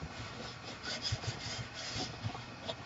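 A chopstick rubbed along paper inside a handmade undercordion album to burnish it, a soft continuous scraping and rubbing close by with faint tapping accents.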